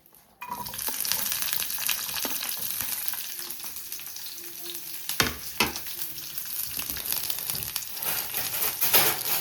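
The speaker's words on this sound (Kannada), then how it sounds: "ಈ ರೀತಿ ಫ್ರೈ ಮಾಡ್ಕೊಳ್ಳೋದು" Mushroom biryani ingredients start frying in hot oil with a sudden loud sizzle that settles into steady crackling, broken by stirring scrapes and a few utensil clatters near the end.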